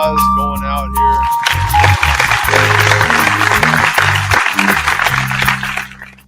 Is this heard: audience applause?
yes